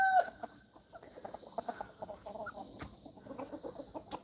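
Chickens cluck and chatter softly inside a new coop, a busy scatter of short calls at close range over a steady background hiss, with no one speaking.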